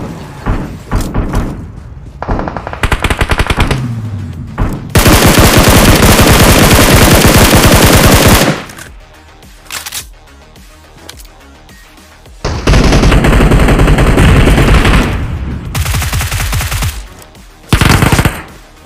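Loud, sustained machine gun bursts in PUBG Mobile, long rattling volleys alternating with short pauses and quieter stretches, close and harsh.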